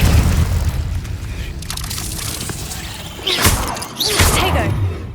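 Confringo blasting spell explosions in the Hogwarts Legacy video game, two sharp bursts late in the clip over a steady rumbling game background.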